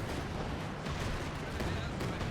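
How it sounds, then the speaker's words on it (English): A creeping artillery barrage in the Company of Heroes 2 game: a dense, continuous wall of rumbling blasts and distant gunfire with no clear gaps, loud and sustained throughout. "Oh, he's lucky that it was a creeping barrage."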